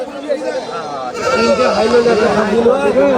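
A young goat bleats repeatedly at a busy goat market, its wavering cries loud and close, overlapping with people talking nearby.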